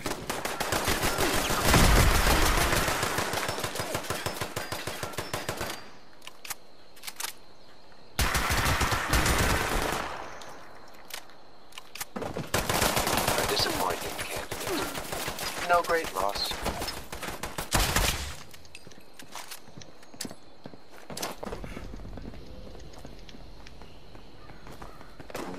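Bursts of rapid video-game gunfire in a nuclear-winter survival game, loud and close, coming in several separate volleys with quiet gaps between them and faint rhythmic footsteps underneath.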